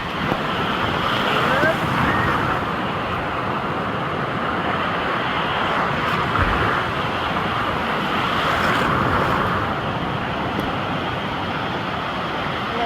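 Large ocean waves on a Mallorca beach wash continuously in a broad, steady roar, mixed with wind buffeting the microphone.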